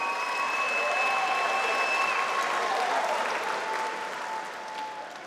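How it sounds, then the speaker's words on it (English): Crowd applauding after a five-round Muay Thai world title bout at a 52kg WBC super flyweight event, steady dense clapping that holds loud then eases slightly toward the end, with faint tonal sounds threaded through. "can we please have a round of applause for these two fighters?"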